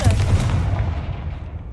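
A fiery blast spell in a fantasy video game, a deep booming burst with a rumbling tail that fades over almost two seconds.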